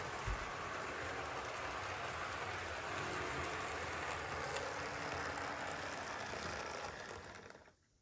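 An HO scale model locomotive pulling freight cars runs along the track with a steady rolling rumble and faint clicking wheels, continuous and close, fading out at the end.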